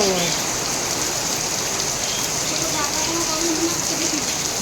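Heavy rain pours steadily, a dense continuous hiss of drops drumming on surfaces, loud and close throughout.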